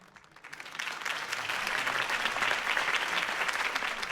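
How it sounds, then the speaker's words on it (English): A large crowd in the video game Batman: A Telltale Games Series bursts into sustained applause, steady and full, with dense clapping continuing throughout. "could have heard that applause"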